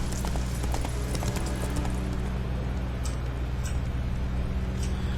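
Horse hooves clip-clop in a steady trotting rhythm during The Witcher 3 gameplay, heard close over a continuous low rumble of game ambience.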